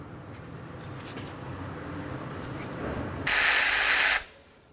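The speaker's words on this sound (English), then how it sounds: "I'm just going to use a 5mm socket, put it right on the stud right here" A ratchet with a 5mm socket working an exhaust manifold stud loose on a 2006–2012 Ford Fusion, faint quick clicking turns under a low background, then a loud burst of harsh noise before it cuts off.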